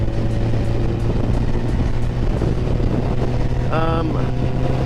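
A 2008 Yamaha FZ1 motorcycle rides along the road with a loud, steady engine and wind roar; a brief higher rising whine or horn-like tone cuts through near the end.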